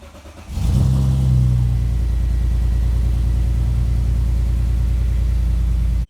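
BMW E46 engine freshly rebuilt with a new VANOS unit, starting up and then idling with a steady, loud, even rumble, recorded close by with no voices.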